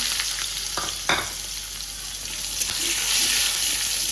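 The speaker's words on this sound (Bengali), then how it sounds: "পেঁয়াজগুলো একটু ভাজা ভাজা হোক" Steady close sizzling of chopped onions and bay leaves frying in hot oil, with a few scrapes of stirring near the start.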